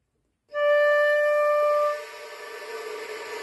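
A flute sounds a clear held note, then turns into an airy, breathy wind tone as the flute is pushed away with the lower lip. Played close and alone, with no talking.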